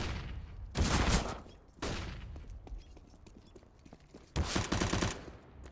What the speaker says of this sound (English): As we see Pebbles with the dual elites taking down Zesty.